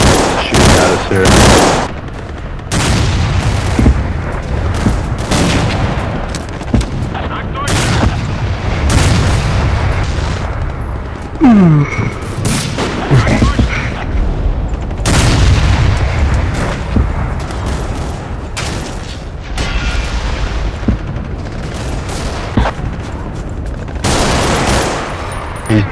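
Heavy gunfire from incoming and outgoing shots in a combat game, loud bursts of rapid automatic fire and booms packed close together, with raised voices talking over the fighting.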